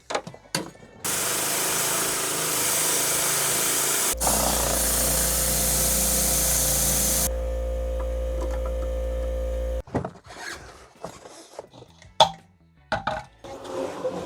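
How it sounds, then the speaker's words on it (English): A ratchet strap clicks and whirs while being cranked tight across the back of a short-track mountain snowmobile's track, sounding as loud, steady, close mechanical drones broken by sharp clunks and scattered knocks. "I'd like to ratchet strap up the back of my track just a little bit,"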